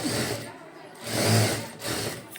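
A sewing machine stitching piping onto a puff sleeve, running in short steady mechanical bursts that swell and fade, close up and fairly loud, with a voice speaking over it.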